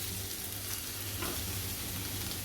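Garlic and onion sauté in a hot pan for prawns garlic, giving a steady, close, even sizzle with no talking over it.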